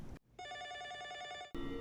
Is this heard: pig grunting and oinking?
no